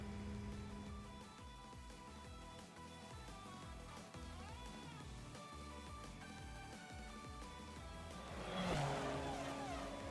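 Race cars roaring through a Grand Circuit race in the video game Trails Through Daybreak 2, steady engine drone with shifting revs over game music, swelling louder near the end.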